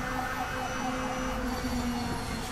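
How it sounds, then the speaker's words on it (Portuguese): A police car siren passes outside a window, a steady wailing tone held at moderate loudness over continuous background noise, with no talking. "tem uma polícia passando aqui na minha janela"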